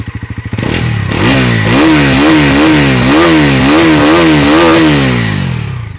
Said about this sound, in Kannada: ಬಟ್ ಅದಕ್ಕೆ ಮುಂಚೆ ಒಂದ್ಸಲ ಎಕ್ಸಾಸ್ಟ್ ನೋಟ್ ಕೇಳ್ಬಿಡೋಣ. ಹತ್ತಿರದಿಂದ ಕೇಳಿಸ್ಕೊಳ್ಳಿ ಗುರು.